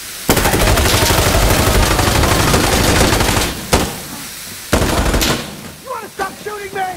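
Sustained automatic gunfire rattles loudly in the tactical shooter game Insurgency. Rapid bursts run for several seconds, break off, then return in shorter volleys, and voices shout over the firefight near the end.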